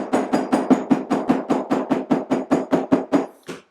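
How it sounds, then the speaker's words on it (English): About fourteen sharp, evenly spaced hammer blows land on leather lacing of a handmade tote, loud and close in a steady rapid rhythm, with no talk. "Hammer that down."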